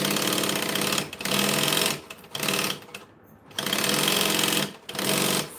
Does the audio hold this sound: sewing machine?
yes